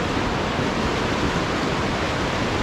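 A mountain river on the trek from Kathmandu toward Shey Phoksundo rushes in a steady, dense roar that stays loud and unbroken, with no voices.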